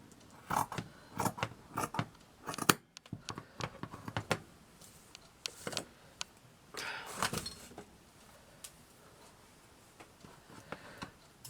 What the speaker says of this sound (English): I need to just trim it so it's about the same.